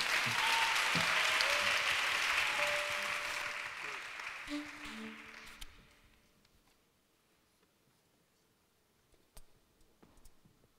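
A church audience at a worship concert and talk event applauds loudly for several seconds. The clapping then fades to near silence, leaving a few scattered clicks.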